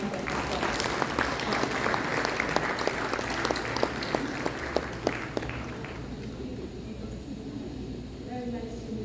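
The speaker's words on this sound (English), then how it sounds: "Please welcome her with a round of applause" A round of applause greets a guest at a Sir Syed Day 2023 gathering in the San Francisco Bay Area, with distinct claps over a dense crowd for about six seconds before fading under a speaking voice.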